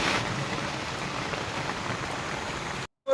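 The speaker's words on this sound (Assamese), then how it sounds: "বৰষুণ মানে এইটো ভয়ংকৰ বৰষুণ দিছে মানে হেভি বৰষুণ" Heavy rain pours down steadily as a dense, loud wash of drops, unbroken for nearly three seconds before a brief silent cut, after which the downpour resumes.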